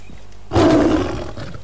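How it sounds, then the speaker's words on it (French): A lion in the Assassin's Creed Origins game lets out a single loud, close roar that bursts in after a quiet moment and trails off over about a second. "Oh, il y a un lion."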